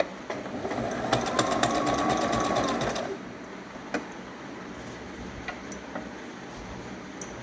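Sewing machine stitching a zigzag seam on cloth for an umbrella gown, running loudly and steadily for about three seconds, then stopping and leaving a few faint ticks and clicks.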